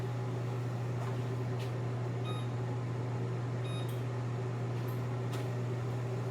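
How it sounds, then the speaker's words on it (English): An oven switched on and running, with a steady low electrical hum and faint fan noise throughout, broken by a few short beeps from its controls. "So now I'm going to turn the oven on."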